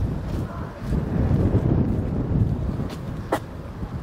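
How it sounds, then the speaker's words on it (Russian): Steady outdoor wind in Kalmykia buffeting the microphone, a low rumbling roar throughout with a brief higher gust-like burst near the end. "Ветер, конечно."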